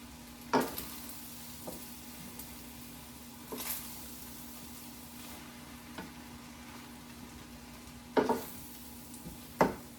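Homemade stir fry being stirred in a sizzling pan, a soft steady frying hiss with a few sharp scrapes and clinks of the utensil against the pan, with no talking.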